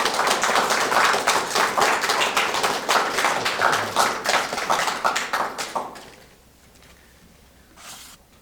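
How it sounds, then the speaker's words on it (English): An audience claps to welcome a guest speaker, brisk dense applause close by for about six seconds, then fading quickly to a few scattered claps and near quiet. "So I'd like everyone to give her a warm round of applause and a welcome."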